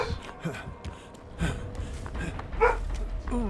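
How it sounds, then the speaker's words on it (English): A dog in a room barks and yips several times in short, irregular bursts, fairly close and moderately loud, with faint background game sounds. "That is my dog. I apologize."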